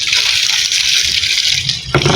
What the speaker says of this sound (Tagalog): tingnan mo yung tubig bumibula-bula kasi sinisip-sip na niya